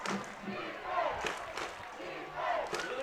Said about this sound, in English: Here we got the crowd chanting defense.